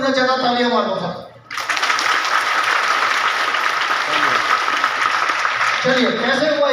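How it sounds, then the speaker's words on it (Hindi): Seminar audience at a hotel program breaks into loud, sustained applause that fills most of the stretch, following a brief spoken prompt and giving way to someone speaking again at the end. "तालियां मार दो सब।"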